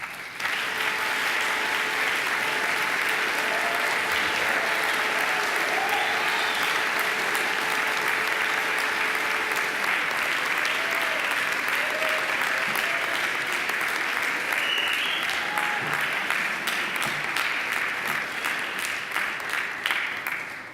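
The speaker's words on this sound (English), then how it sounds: "And now I ask you to give them a mighty round of applause." A large audience applauds steadily at a university graduation ceremony at Macquarie, the clapping dense and sustained at an even, loud level for about twenty seconds with faint tonal sounds beneath.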